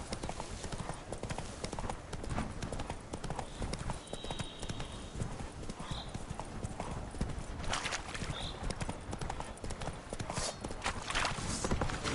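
Steady clip-clop of horse hooves at a trotting rhythm in a video game, close and continuous throughout, with faint background noise.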